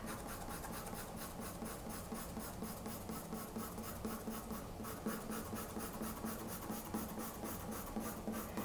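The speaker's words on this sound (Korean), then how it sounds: "균일한 힘의 세기의 선들로 차분히 그리면서 한 방향으로 그리면서 면을 채워 나가고 있습니다." A coloured pencil shades a flat area on paper in even, one-directional strokes, giving a soft, steady rasping scratch that repeats in quick rhythm, faint and close, with no voices.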